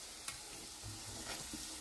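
Spices sizzling in hot oil as a Marathi-style tempering is stirred in a pan, a faint steady fry with soft spoon scrapes and a sharp tap near the start.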